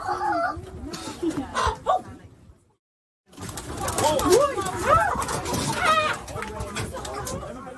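Chickens cluck and squawk inside a farm chicken coop, the close, busy calls breaking off briefly into near silence before resuming louder, with a person's voice mixed among them.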